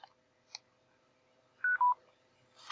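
Skullcandy PLYR2 gaming headset beeping as it powers off and on: two short, clean electronic tones in quick succession, faint and close, with a couple of soft clicks before and a brief rustle after.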